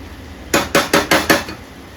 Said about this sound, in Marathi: मधून मधून थोडंसं हात मारायचं त्याला चमच्याचं